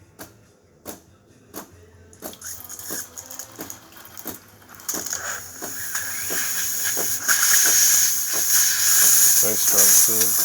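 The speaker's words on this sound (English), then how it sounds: "Nice strong steam." A serviced DeLonghi Magnifica espresso machine's steam wand hisses, starting with rhythmic sputtering pulses and building into a loud, continuous, airy rush of steam.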